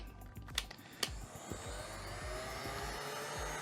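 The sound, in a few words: heating thermoplastic for a finger splint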